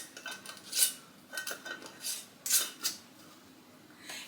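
Metal lid and ring screwed onto a glass canning jar, a series of small close metallic scrapes and clinks of threads turning, in short irregular bursts.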